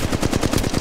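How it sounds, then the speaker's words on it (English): Automatic weapon fire in the mobile shooter Apex Legends Mobile: a short, loud burst of rapid, evenly spaced shots. "Opening fire"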